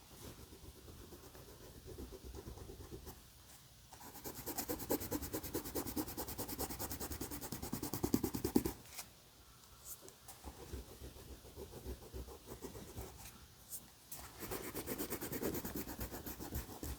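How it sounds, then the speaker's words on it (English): A pencil eraser rubs back and forth on paper, producing bursts of rapid scratchy scrubbing separated by brief pauses, close and quiet. "I'm going to gently erase my pencil marks"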